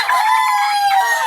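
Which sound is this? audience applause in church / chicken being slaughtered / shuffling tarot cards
chicken being slaughtered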